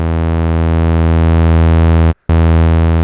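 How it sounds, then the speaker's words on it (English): A Moog Grandmother synthesizer holds a loud, steady, slightly buzzy distorted tone, cut by a brief silence near the end before it resumes. "So we're getting a slightly more buzzy, distorted sound."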